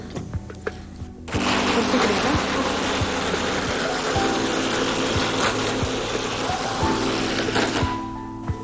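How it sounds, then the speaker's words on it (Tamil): Electric mixer grinder in a kitchen grinding lentils (dal) with coconut, a loud steady whirring motor drone that starts abruptly after a second of quiet, runs about six seconds with rattling grit, then cuts off. "ஃபர்ஸ்ட் பருப்பை அரைச்சிக்கலாம்"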